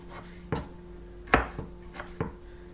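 Knife chopping tomatoes on a board for homemade salsa: a handful of sharp, separate chops spaced irregularly, close and clear over a faint steady hum, with no talking.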